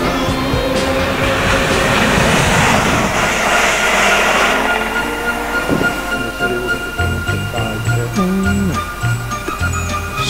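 A train running on the Cinderbarrow model railway, heard as loud continuous rumbling with clattering wheels and a tinkling, jingling quality, giving way to squealing wheel tones in the later part.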